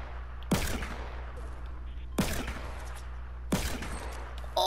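Three loud, sharp revolver shots in a shooter video game, evenly spaced about a second and a half apart, each a hard crack with a short decaying tail over a low steady background hum.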